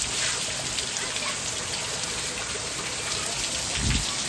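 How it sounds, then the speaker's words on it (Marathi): Steady rain pours down, a dense continuous hiss of drops on surfaces, with a brief low thump near the end. "आता पाऊस आला म्हणून पाणी वेस्ट नाही होगा"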